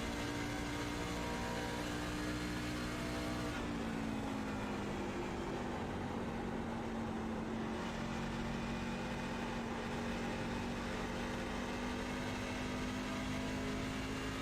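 A pack of asphalt stock race cars holds a steady engine drone on an oval track during a playoff race under overcast skies, the tone sliding slightly lower and then rising again, heard continuous and distant without talk.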